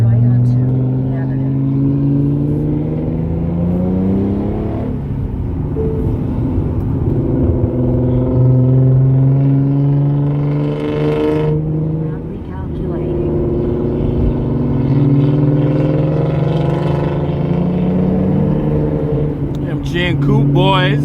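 A Hyundai Genesis Coupe drives along city streets, its engine a steady low rumble with shifts in pitch as it accelerates, heard continuously beneath talk from people inside the car.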